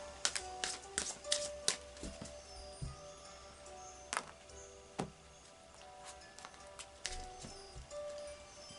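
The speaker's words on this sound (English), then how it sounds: "So I'm going to put it back, and I'll just do another couple of shuffles." A deck of oracle cards is shuffled by hand, giving a series of soft close taps and slaps in an irregular rhythm, quiet in a still room.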